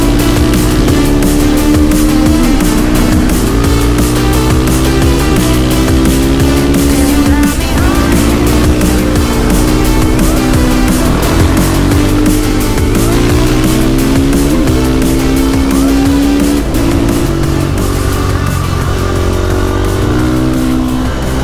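A supermoto motorcycle engine drones loudly and steadily for the whole stretch, rising and falling in pitch through gear changes and throttle, with no speech.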